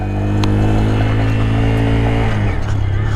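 A Honda Grom's small engine drones loud and steady under load, then the pitch drops sharply as a gear is shifted near the end, heard close up with wind noise.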